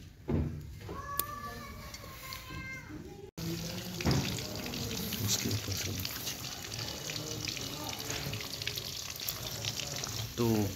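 Large cut pieces of meat simmering in a pot on a stove give off a steady, continuous bubbling and sizzling hiss that runs close up and fairly loud, with brief clinks and a short break near the start.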